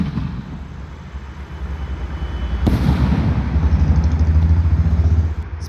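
Three inch skyshot fireworks at a Diwali display launch and burst, a building rumble of firing followed by a sharp crack, then a steady crackling, thumping barrage, loud and fairly close.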